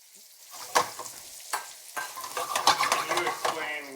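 Sliced red onion sizzles in rendered pork fat in a pan, broken by several sharp scrapes and stirs, the sizzle thickening after a few seconds, with no talk.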